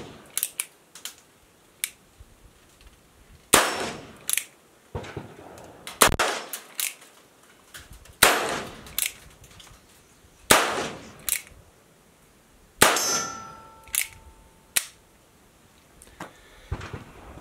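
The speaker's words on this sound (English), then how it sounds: "We'll go ahead and fire a few 22 LRs through here and see how they do." A Chiappa SAA 1873 single-action revolver fires .22 LR rounds outdoors, a dozen or so sharp, close cracks spaced unevenly a second or two apart, with quieter clicks of handling between shots and no talking.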